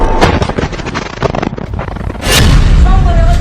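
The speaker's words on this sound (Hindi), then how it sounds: "फिर धमाका एक दूसरे कैमरे से रिकॉर्ड किया जाता है।" A Yasin rocket striking a Merkava tank beside a road: a loud, close, roaring blast with a dense rumbling body that swells and stays heavy toward the end.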